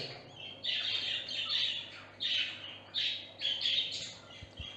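Budgerigar chicks squawk in repeated shrill bursts, close by and fairly loud, with short pauses between the rasping calls.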